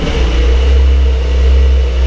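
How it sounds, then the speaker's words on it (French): A Porsche 911 992 Targa 4S engine runs with a deep, steady, loud low rumble for about two seconds after starting, with no talk over it. "Et là, tu allumes la voiture."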